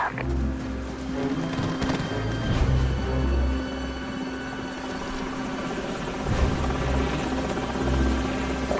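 Loud, steady enemy helicopter rotor thump in Call of Duty: Modern Warfare with a low engine drone, continuous throughout, with a busy mix of ambient noise layered on top.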